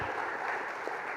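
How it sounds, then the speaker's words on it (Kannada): Faint applause from the audience at a comedy show for the Ugadi festival, a short soft wash of clapping that stays even. "ಜೋರು ಚಪ್ಪಾಳೆ ಕೊಟ್ಟರೆ ಈಗ ಅವರು ಮಾತಾಡ್ತಾರೆ"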